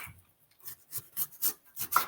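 Tough outer skin is pared from a halved celeriac in short, rough scraping strokes, about five or six close rasps in quick succession with brief pauses between them.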